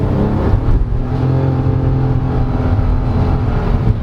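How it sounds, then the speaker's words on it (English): A 2022 Nissan Almera VL Turbo sedan with a CVT roars loudly and steadily under full-throttle acceleration, holding a sustained high-revving drone from inside the cabin. "This car just wants to keep on going. Let's floor it."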